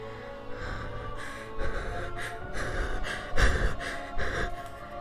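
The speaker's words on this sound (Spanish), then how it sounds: "escuchó a lo lejos una respiración agitada" Heavy, agitated breathing of an exhausted woman at her limit during a castle siege: a steady run of ragged gasps and labored breaths that swell louder in bursts, with no speech.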